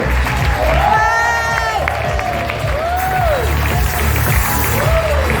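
A crowd applauding and cheering loudly and continuously, with excited whoops and shouts rising over the clapping.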